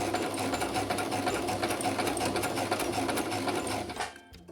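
Sewing machine stitching fabric while sewing a scrunchie from scraps, a steady fast mechanical whirr of the running needle that stops abruptly near the end.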